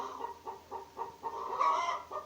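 Chickens cluck in a series of short, rhythmic bursts, close by and moderately loud, with one slightly longer, louder call near the end.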